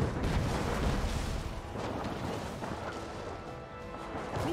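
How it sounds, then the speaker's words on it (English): Cannon fire in the naval warfare of the strategy game Anno 1800, a dense run of booming impacts and crashes that stays loud and roughly continuous throughout with no voices. "Little cannon shooting at us from there."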